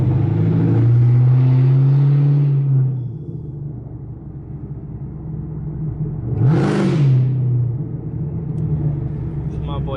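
Chevrolet Camaro ZL1 engine rumbling steadily while cruising, loud at first with a rising whir, then settling lower under talk, with a brief passing swell midway.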